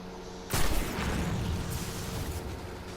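A single sharp gunshot goes off in Destiny 2 as a rune is fired on, a loud sudden burst followed by a sustained roar and rumble of game sound. No one talks.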